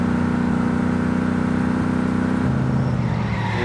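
A car engine droning steadily in the driving game My Summer Car during multiplayer play, held at a constant high pitch, then dropping as the revs change near the end, loud and close with no talking.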